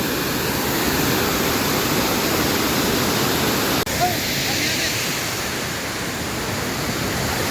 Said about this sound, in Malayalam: ആ മുകളിൽ നിന്ന് വരുന്ന വെള്ളം കേട്ടോ.